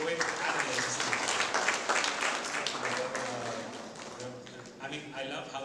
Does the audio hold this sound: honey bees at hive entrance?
no